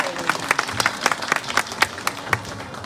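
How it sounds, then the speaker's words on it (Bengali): Guests at a Garo Baptist wedding clap together, a loud, fairly close burst of many hands with distinct sharp claps standing out in an irregular rhythm, fading slightly toward the end. "আমরা একটু হাততালি দেই।"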